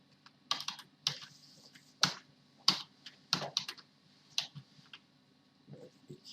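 A computer keyboard clatters in irregular bursts of crisp keystrokes and clicks, close and fairly quiet, while a 3D sculpting program is being used, with no one speaking.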